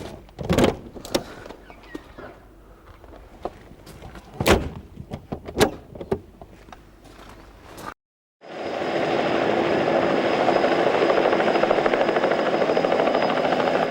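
Around a single-engine Bell 206 Jet Ranger helicopter with hinged doors, sharp clicks and knocks come first, then after a brief silence a loud, steady turbine roar with a high whine fills the rest.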